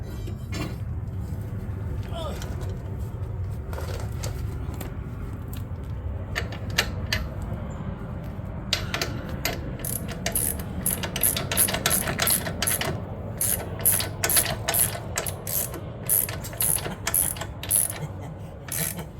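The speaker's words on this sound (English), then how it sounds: "this is the last two bolts going on" Ratcheting and clicking of wrenches on the last two bolts during a Porsche 996 engine install in a garage, rapid metallic clicks growing denser toward the end, close and moderately loud over a low workshop rumble with brief voices.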